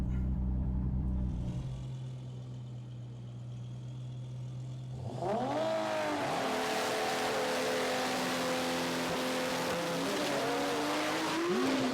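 A roughly 2350 bhp Lamborghini Huracan and a roughly 2250 bhp Nissan GT-R race side by side, a loud engine drone giving way to a sudden launch, rising revs and gear changes with tire squeal, sustained and close.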